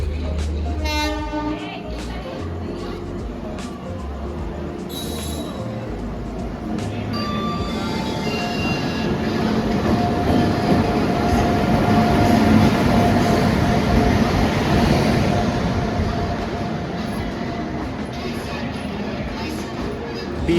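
A train pulls into a station platform, its rumbling rolling noise swelling and peaking midway, then easing off, with a horn sounding early on and people chatting nearby throughout.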